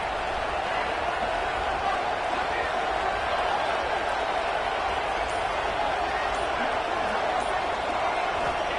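A college football stadium crowd roars in a dense, continuous wash of noise that stays loud and even for the whole stretch, with no clear breaks or single voices standing out.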